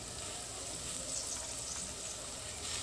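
Onions frying in a pan for Andhra-style mutton curry, a faint, steady crackling sizzle with soft bubbling, continuous and low in volume, no talking.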